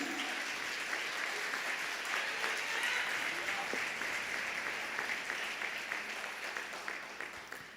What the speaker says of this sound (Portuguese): Quer aplaudir? Aplaude a Jesus.